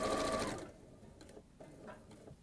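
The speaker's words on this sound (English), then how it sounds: "So then we're going to sew straight across." A sewing machine runs loudly for about half a second, stitching straight across fabric, then stops, leaving soft handling noises and faint rustles.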